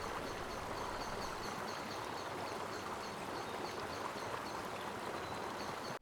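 A river stream flows at Amboli in the Konkan ghats, a steady broadband rush of water that holds even and continuous throughout, with no voices.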